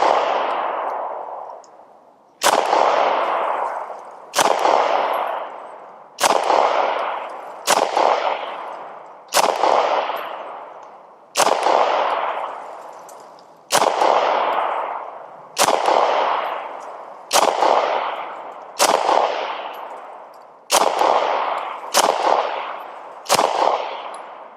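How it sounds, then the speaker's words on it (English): Ruger RXM pistol firing its first magazine at a 7-yard range: about a dozen loud, sharp shots spaced one to two seconds apart, each ending in a ringing decay, with no voices. "first magazine through the RXM Ruger, and let's see how well. We're about 7 yards"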